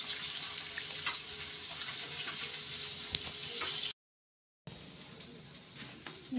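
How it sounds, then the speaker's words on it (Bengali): Meat frying in hot oil left over from frying potatoes, a steady bright sizzle with occasional crackles, briefly cut to silence before the frying noise resumes, no talk. "এখন এই যে মাংসটা করার মধ্যে অনেক আলু ভাজার তেল ছিল, গরম তেল, তেলের মধ্যে বসিয়ে দিয়েছি"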